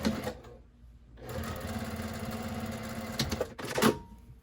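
Topstitching an eighth of an inch beside a seam on a fabric bin, a sewing machine hums in one steady close run of rapid stitches, framed by short handling noises and a brief pause, with no voices.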